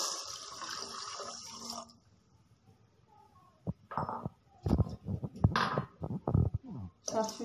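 Water is poured onto sugar in a pot for rasgulla syrup, a short gurgling pour followed by quiet, then clinks and clatter of kitchen handling nearby.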